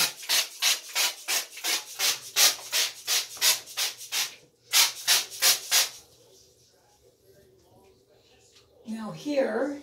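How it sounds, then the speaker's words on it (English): A scratchy pad scrubs soap scum off a surface in rapid rhythmic strokes, a dozen or more harsh rasping rubs close up, then a pause with faint background and a voice at the end. "you can just take this and scrub it"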